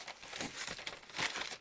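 Paper crinkling and crumpling as a package is unboxed, with brisk rustles and crunches over a couple of seconds, close and fairly quiet with no voices.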